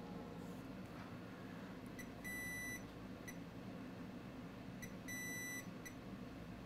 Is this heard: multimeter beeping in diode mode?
yes